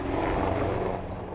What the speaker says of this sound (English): A fleet of helicopters swirling over the fire, dropping water.